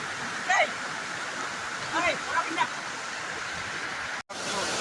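Steady rushing water of the Jharjhara Mata waterfall in Gariyaband pours continuously, a broad even roar with a few brief voices and calls rising over it.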